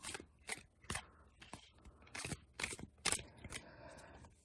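Quiet crisp riffling and snapping bursts in uneven rhythm, tarot cards being shuffled close by, with brief pauses between.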